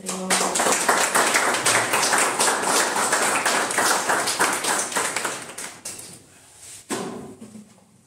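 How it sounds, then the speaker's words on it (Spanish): Applause from the audience at a professional introductory workshop, dense clapping that fills most of the stretch before thinning out and ending, with a short burst near the end. "Gracias por un aplauso"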